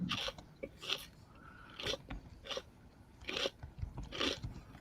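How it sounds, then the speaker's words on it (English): A person chews crunchy chips close to the microphone, producing a steady run of sharp, loud crunching bites at an irregular rhythm, with no talking. "it's gonna be the next 10 minutes of just listening to you chew on chips"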